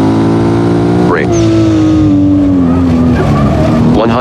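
A race car in the Assetto Corsa video game brakes hard from a loud, steady engine drone, the pitch dropping as the tires squeal through a long slide, all close and loud.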